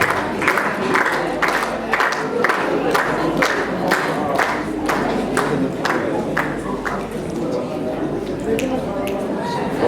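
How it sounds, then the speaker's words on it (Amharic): Wedding guests at an apostolic wedding clap in a sustained, rhythmic unison beat, loud and close, with crowd voices and calls mixed in underneath throughout. "ጭብጨባ"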